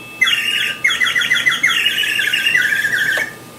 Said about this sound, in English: Down on the slip key we have here a bird whistle,